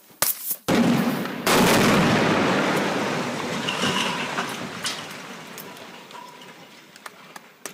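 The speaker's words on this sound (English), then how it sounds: "Footage shows the controlled demolition of a decommissioned mixing tower." A controlled demolition blast brings down a decommissioned mixing tower, opening with sharp cracks and then a loud, close roaring boom of collapse that slowly fades into rumble and scattered ticking debris.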